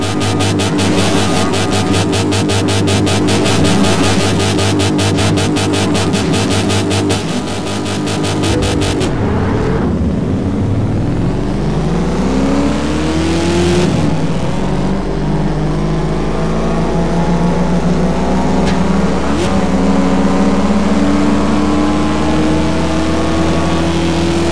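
Race car engines in Test Drive Unlimited 2 at a veterans' race on Hawaii, with a loud buzzing rev that cuts out, then engines climbing through rising gear sweeps as the cars accelerate.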